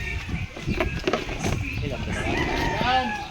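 Roosters crow close by, with hens clucking around them in a barnyard, and voices talk over the birds throughout.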